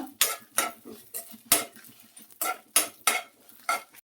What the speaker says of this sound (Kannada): ಒಂದು 8-10 ಒಣಮೆಣಸು ತೊಗೊಂಡಿದ್ದೀನಿ. ಮೀಡಿಯಮ್ ಫ್ಲೇಮಲ್ಲಿ ಹುರ್ಕೊಳ್ಬೇಕು.